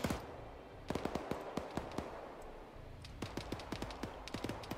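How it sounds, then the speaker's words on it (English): Machine gun fire in the military video game Arma 3, heard as several quick clusters of sharp, moderately distant shots with short pauses between bursts. "Hearing that machine gunner fire off at him."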